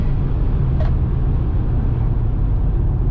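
A twin-turbo Kia Stinger accelerates hard, heard from inside the cabin as a dense, steady low engine drone with a brief high whistle, loud and unbroken throughout.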